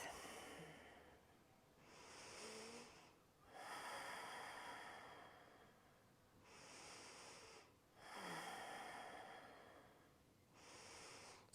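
Slow, deep breathing during a yoga stretch after a run, with long audible inhales and exhales repeating in a calm rhythm, close and quiet with no talking.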